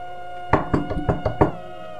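Hard knocking on a wooden house door: six loud, resonant knocks in an uneven quick series, close and clear, alone over a faint steady hum.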